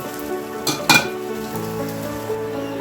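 Mustard flower pakoras deep fry in hot oil with a continuous bubbling sizzle, broken by two sharp metallic clinks of a utensil against the pan near the start.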